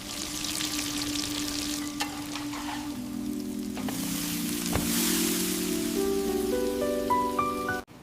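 Vanilla-soaked thick brioche searing on a griddle, a loud, steady close-up sizzle with a few sharp crackles, accompanied by a tonal background hum, ending abruptly.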